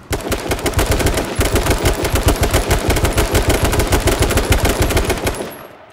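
Loud, rapid automatic gunfire in the video game H1Z1 rattles in a continuous rhythmic burst for several seconds, close and unbroken, then tails off at the end.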